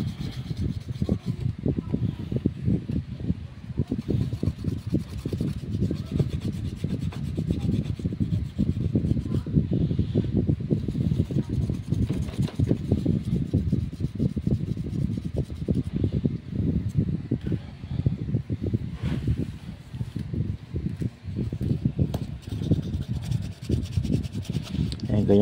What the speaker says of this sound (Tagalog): pakikinisin nyo na ng gusto para matanggal yung kalawang